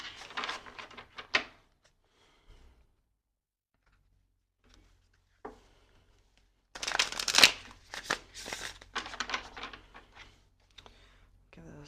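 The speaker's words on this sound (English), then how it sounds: "Give this one more good shuffle." Tarot cards being shuffled by hand during a card reading, short riffling bursts at the start and a longer, busier stretch of shuffling later, separated by near silence, close and fairly quiet.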